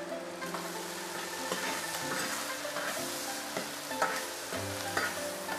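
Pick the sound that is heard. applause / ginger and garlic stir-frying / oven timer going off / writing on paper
ginger and garlic stir-frying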